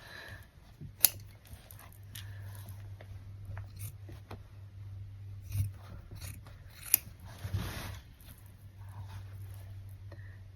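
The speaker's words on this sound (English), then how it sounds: "my aim now is to cut it as close to this line" Scissors snip embroidery thread close to a stitched line, a few quiet, sharp clicks spread over a soft, low background hum.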